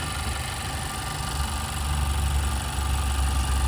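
A 2017 Honda Accord engine with about 100,000 miles idles with the hood open, giving a steady low hum that swells slightly partway through, heard close and alone.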